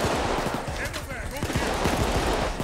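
Rapid automatic gunfire during a bank heist shootout in Payday 2, dense continuous cracking shots close up, with voices faintly mixed in.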